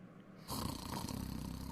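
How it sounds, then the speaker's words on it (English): A man snoring in his bedroom at night, starting after a moment of quiet with a loud, rough, rasping snore that carries on steadily to the end. "He is snoring in his bedroom."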